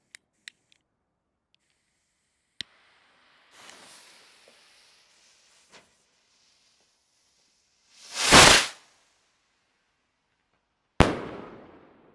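A Vivid Hellfire firework rocket fires off with a sharp crack, a brief rising whoosh follows, then a loud booming burst near the eight-second mark and a second sharp bang with crackling decay at the end, heard alone outdoors.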